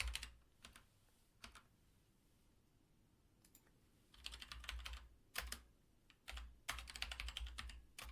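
Bursts of typing on a computer keyboard while entering search terms into a medical database application, with quick clustered keystrokes separated by pauses, close and moderately loud, no talking.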